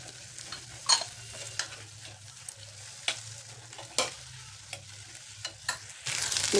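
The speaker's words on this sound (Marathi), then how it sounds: "ह्याला फुल फ्लेमवरती आपल्याला परतून घ्यायचं म्हणजे छान स्मोकी फ्लेवर येतं" Onion chunks and red capsicum stir-fried on full flame, a steady close sizzle broken by sharp scraping stirs of a spatula against the pan, with no talking.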